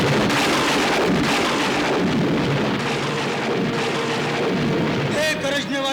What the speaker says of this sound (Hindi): गरजने वाले मेघ